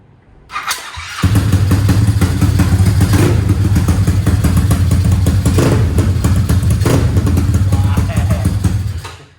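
A Suzuki GSR R-1000R drag motorcycle engine starts with a quick burst, then runs loud and steady at a rough idle, close by, before cutting off at the end.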